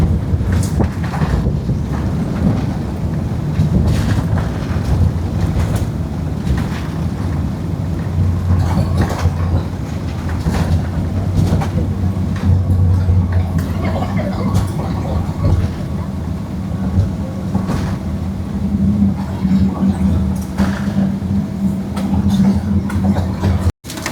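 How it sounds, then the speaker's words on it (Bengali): Emirates airliner engines spooling down after touchdown on the runway at the end of a Dubai to Kolkata flight, a steady loud low roar and rumble filling the cabin throughout, with a brief cutoff at the very end. "ইঞ্জিনের শব্দ কমে আসছে, প্লেন ধীরে ধীরে থামছে"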